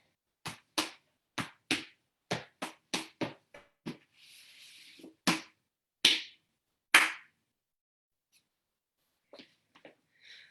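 Soft-shoe tap dance steps beat out a close, crisp rhythm of sharp strikes, followed by a brief shuffling drag and then two separate hand claps, ending with a few faint taps.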